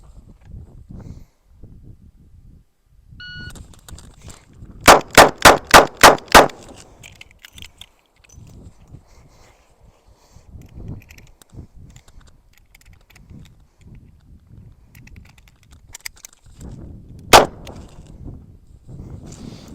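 Six rapid shots from a Kimber K6 revolver ring out in a tight burst, then quiet handling during a single-round reload before one more loud shot at an outdoor range.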